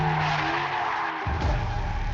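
A 2026 Chevrolet Corvette ZR1X with about 1,200 horsepower drifts, its tires giving a sustained high squeal over engine noise for roughly two seconds, with a deeper scrubbing note near the end.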